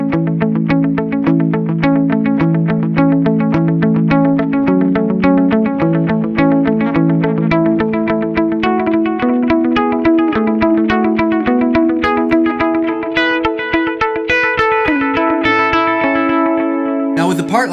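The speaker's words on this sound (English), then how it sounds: "For verse 1, I turn on a dual delay." Electric guitar playing a lead verse part through a dual delay bouncing ping-pong style between quarter-note and dotted-eighth repeats, a steady stream of clean, echoing picked notes, close and continuous, ending with a brief noise.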